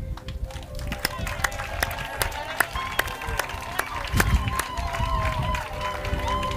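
Scattered claps and applause from a crowd mixed with voices and a bright ringing tone, with sharp hand claps standing out at irregular moments.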